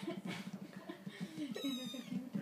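A cat meows up close, a drawn-out whiny call rising and falling in pitch, fairly quiet and alone.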